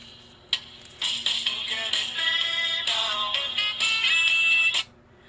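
A mobile phone ringtone plays a bright, steady melodic tune of quick repeated notes for about four seconds, fairly close, then stops abruptly.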